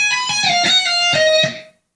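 Electric guitar plays a fast lick, a rapid run of bright, sustained picked notes with a clear ringing top note, then the sound stops abruptly.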